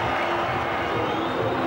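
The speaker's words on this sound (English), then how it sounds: "Brings up the bonus point, and the crowd are on their feet." Rugby stadium crowd roaring and cheering after a try, a broad sustained wash of voices with a commentator talking over it.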